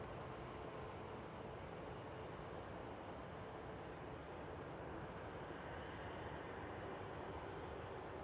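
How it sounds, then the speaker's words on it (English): KLM Boeing 737 airliner inbound from Amsterdam, heard as a steady, distant broadband jet roar that holds evenly throughout with no talk over it. "It's a 737."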